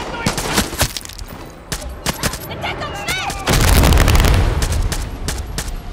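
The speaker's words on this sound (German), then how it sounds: "schießen die schon wieder?" Dense gunfire in Far Cry 6, rapid overlapping shots cracking close and loud, building into a heavy booming burst, with a voice speaking briefly under the shooting.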